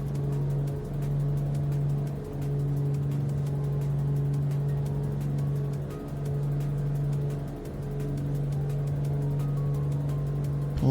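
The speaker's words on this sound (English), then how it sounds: "Let me turn down the engine sound a little bit." A steady aircraft engine drone during a climb in a flight simulator, heard on a cross-Canada flight from CYYJ to CYQB, holds a constant hum for the whole stretch with slight dips in level and no talk over it.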